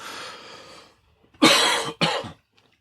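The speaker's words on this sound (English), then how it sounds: "I got this cough" Two sharp, harsh coughs in quick succession, close by, after a brief breathy sound and a moment of silence.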